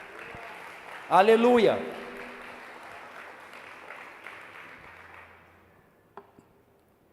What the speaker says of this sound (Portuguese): Dê um aplauso para Deus, você que entendeu.